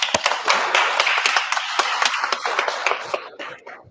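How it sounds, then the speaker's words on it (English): A small audience gives a round of applause after a talk on seasonal tourism in Cyprus, close, crisp clapping from a modest group that tapers off over about four seconds. "Let's give you a round of applause."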